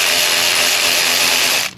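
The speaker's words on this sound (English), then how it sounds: "I get in and just use this right hand 90-degree air ratchet" An electric right-angle ratchet spins out spark plugs on a 2020 ZL1 Camaro, a loud, steady, close mechanical whir that runs unbroken and cuts off at the end.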